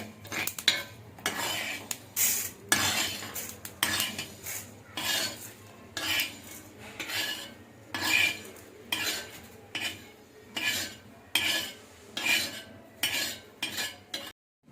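Flaxseeds roasting in a pan while being stirred, giving a steady run of rhythmic scraping and rattling strokes, close and moderately loud, with no voices.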